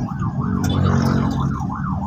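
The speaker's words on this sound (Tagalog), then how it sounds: "Ay, ambulansya oh." An ambulance siren wails in a steady rising-and-falling pattern, loud and close in street traffic in San Fernando, Pampanga, passing over a low rumble of vehicle engines.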